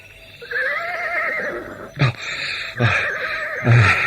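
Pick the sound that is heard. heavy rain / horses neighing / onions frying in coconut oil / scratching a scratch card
horses neighing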